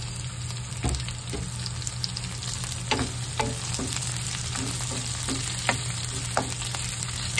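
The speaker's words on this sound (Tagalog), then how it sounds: "Igisa na natin." Onions sauté in a pan with bay leaf and star anise for a Filipino patatim braise, giving a steady close sizzle with occasional stirring clinks and scrapes, no talking.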